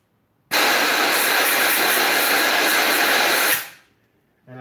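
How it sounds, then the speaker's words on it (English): Compressed air blasting debris out of a valve guide in a Peugeot cylinder head: a loud, close, continuous hiss lasting about three seconds, then cutting off, with a short hiss starting again at the end. "So I'm taking some compressed air."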